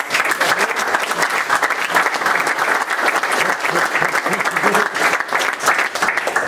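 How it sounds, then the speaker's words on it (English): Sustained applause from the audience at a soccer alumni luncheon in a stadium venue, dense and steady clapping filling the room at moderate loudness, with some voices mixed in underneath. "if we can give him a round of applause."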